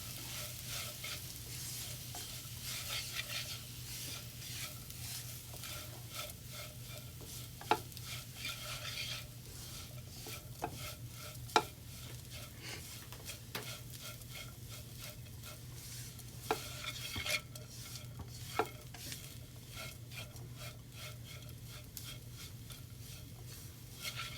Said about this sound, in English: Get it incorporated with all these spices and the minced beef.